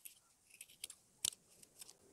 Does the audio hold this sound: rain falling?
no